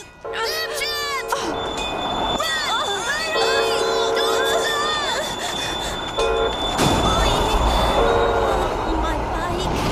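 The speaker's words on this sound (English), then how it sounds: "The train!" A train rolls past at close range, its loud, steady rumble running the whole time under shouting children, ringing crossing bells and high wheel squeals.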